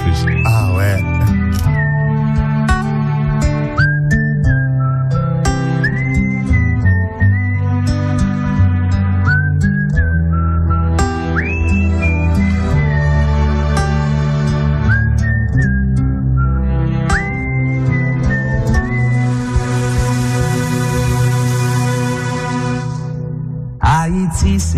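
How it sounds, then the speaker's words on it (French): People whistling a bright melody along with Haitian music, the whistled tune riding clearly over a steady accompaniment, with phrases repeating throughout and a burst of noise near the end. "Et on siffle en plus."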